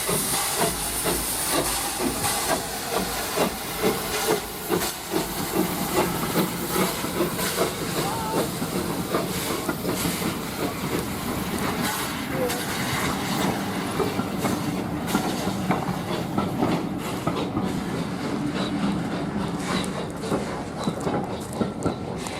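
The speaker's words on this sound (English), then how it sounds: "record the last departure of this loco, built in 1880" A Terrier steam locomotive built in 1880 pulls away from Bodiam station with loud, continuous steam hiss and chuffing, wheels clicking over rail joints throughout, with people talking faintly in the background.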